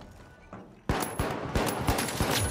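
Pike-556 rifle fire in the video game The Finals: after a quiet moment, a loud series of close, repeated shots in quick succession rings out and continues to the end.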